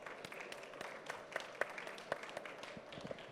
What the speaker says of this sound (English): We should have a clap for that.